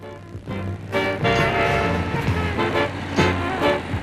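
A dump truck working at a construction site rumbles with a heavy diesel engine, its pitch rising and falling as it revs, with short horn-like tonal bursts, close and steady.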